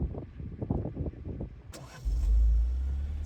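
A car drives through snowy, open country with mountains in the distance. Busy, muffled low-pitched noise at first gives way to a deep engine and road rumble that swells and holds steady near the end.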